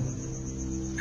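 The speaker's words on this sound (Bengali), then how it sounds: "ঝিঝি পোকা আর ব্যাঙের ডাক শোনা যাচ্ছে মুহুর্মুহু।" Crickets chirp steadily at night in a rain-damp Bengal village, a continuous high insect trill over a low droning bed with no voices.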